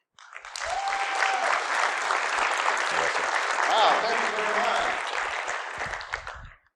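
Audience applause welcoming Dr. Keel at a university event, a sustained burst of clapping from a room of people that fades out, with someone speaking briefly over it.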